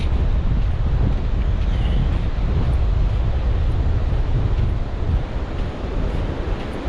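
Surf waves surging steadily onto the beach at Moggs Eye on the Lincolnshire coast, a continuous loud broadband wash with wind noise buffeting the microphone throughout.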